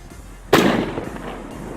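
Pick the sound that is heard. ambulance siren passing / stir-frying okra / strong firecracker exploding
strong firecracker exploding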